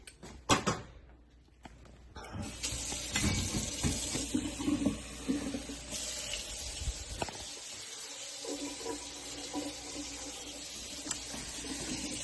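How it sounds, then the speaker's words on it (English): Water runs into a cooking pot in a kitchen. A few clattering knocks come first, then a fairly quiet, steady rushing stream carries on to the end. "Put a little bit of water"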